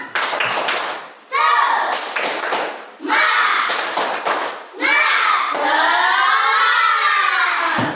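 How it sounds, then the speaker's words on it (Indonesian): A class of third-grade pupils repeats a rhythmic classroom clapping chant, sharp rounds of unison claps broken up by loud group chanting, ending in a long sustained shout. "Oke, sekali lagi tepuk semangat."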